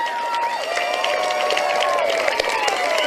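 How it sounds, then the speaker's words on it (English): A large graduation audience applauds and cheers for their families in a big hall, a dense, steady roar of clapping mixed with crowd voices, loud and sustained throughout. "Graduates, please give your family a round of applause"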